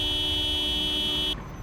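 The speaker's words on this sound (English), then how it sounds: "One little reminder honk." A single sustained car horn honk in the zombie survival game Project Zomboid, loud and steady for over a second before cutting off abruptly.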